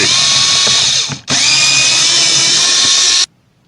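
Power drill spinning out star-pattern screws from the sun visor of a 2019 Chevrolet Silverado, a loud steady whine broken by one brief pause, then stopping abruptly; no talk.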